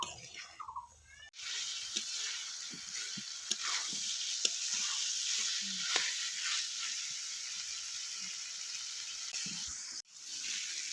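Masala sizzling steadily in a pan as it is sautéed for Bengali pea ghugni, a constant close crackle with faint scraping stirs throughout, after a brief quieter start.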